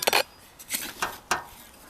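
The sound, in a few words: ginger pieces put into a pot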